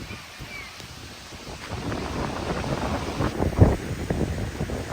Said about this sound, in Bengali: তুফানের মধ্যে বৃষ্টি শুরু হয়েছে, চাইরে কাটিতে তুফান আর বৃষ্টি চলতেছে।